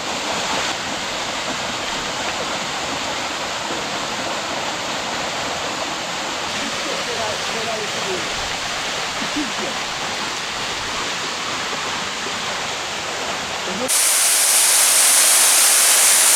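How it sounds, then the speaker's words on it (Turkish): The Aktur waterfall in Datça pours fast and full in its high season, a loud, unbroken roar of white water that swells into harsher hiss near the end. "Şu anda suyun çok hızlı aktığı bir dönemde ve e, güzel bir şelale."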